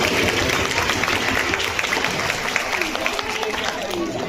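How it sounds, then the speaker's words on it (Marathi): Children and adults at a school children's festival clap loudly at the opening, sustained dense applause with crowd chatter and voices mixed in. "जोरदार टाळ्या होऊया"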